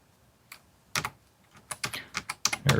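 Computer keyboard keys tapped in an irregular burst, a few slow clicks at first and then quicker close, sharp keystrokes picking up toward the end.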